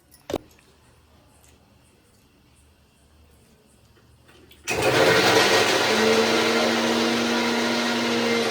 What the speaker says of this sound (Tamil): நல்லா மிக்சியில் விட்டு பவுடர் ஆக்கிக்குவோம்